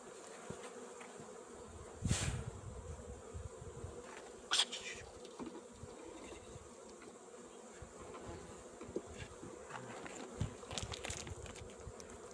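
Bees buzzing steadily around a beehive made of reed that has just been populated, a soft continuous insect hum with a few brief louder passes close by, no talking.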